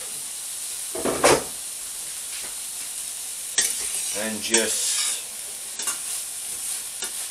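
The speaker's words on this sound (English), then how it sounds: "I'm going to put those in the frying pan." Chicken nuggets, potato wedges and chopped onion rings sizzle in a frying pan and get stirred, with scraping bursts and clacks over a constant hiss, and someone speaks briefly.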